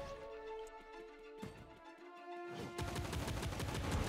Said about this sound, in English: He's just shooting at us.